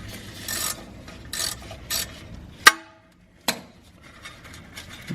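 A 10mm bolt holding a Mitsubishi ABS wheel speed sensor is worked loose with a wrench, giving scattered short ratcheting and scraping bursts and one sharp metallic crack, then brief quiet and another clank, close and without talking.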